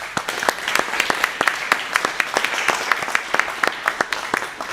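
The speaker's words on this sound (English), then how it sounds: "I really give a round of applause to these two finalists." Audience applause at the US Snooker Masters 2025 final greets the two finalists: steady, dense clapping with sharp individual claps standing out, moderately close and continuous throughout.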